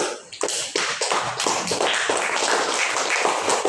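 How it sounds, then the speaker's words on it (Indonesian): A primary school class claps for a group of pupils, producing a loud, dense patter of many hands that starts abruptly and continues steadily to the end. "tepuk tangan untuk kelompok 1"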